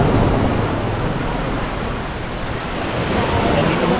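Strong sea waves wash onto the shore in a continuous, heavy roar with wind buffeting the microphone, swelling and easing slightly over a few seconds.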